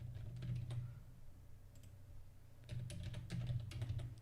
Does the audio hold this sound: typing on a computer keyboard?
yes